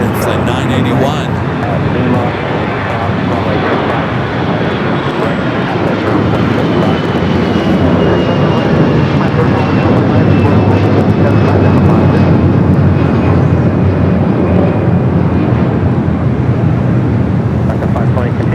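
An airliner arrives on the south side at LAX, its engines a loud, continuous rumble that swells and holds. Talk runs over the roar throughout.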